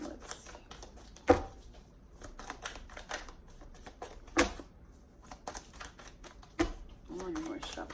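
Tarot cards being shuffled with papery riffles and soft flicks, punctuated by a few sharp snaps, close by and fairly quiet.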